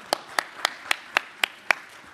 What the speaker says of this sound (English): let's give a nice round of applause to that